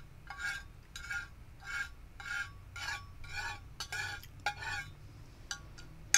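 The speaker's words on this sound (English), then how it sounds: "This is me scraping the teacup because I'm trying to get the sugar off the bottom." A spoon scrapes around the bottom of a teacup to loosen stuck sugar, about a dozen close, rhythmic scraping strokes with light ceramic clinks and no talking.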